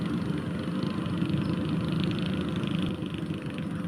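Rice combine harvester running in a paddy field, a steady loud engine rumble with mechanical hum continuing throughout, no voices.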